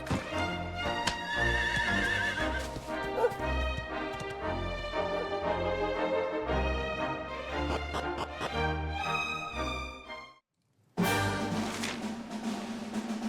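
A horse in Dragon Quest XI whinnies and clip-clops amid bright orchestral game music that plays throughout, then a short silence before the music resumes.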